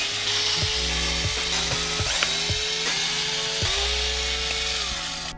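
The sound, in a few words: unscrewing car air vent bolts with a ratchet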